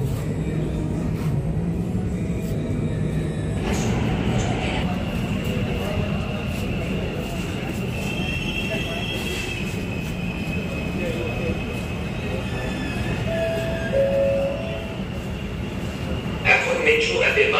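A Kolkata Green Line metro train running between Sealdah and Howrah, a continuous rumbling roar with sustained high whine tones, heard from inside and close, with a brief announcement chime and speech mixed in.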